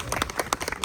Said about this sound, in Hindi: आपकी पार्षद के लिए और उमेश जी के लिए अप्लास, तालियां बहुत बहुत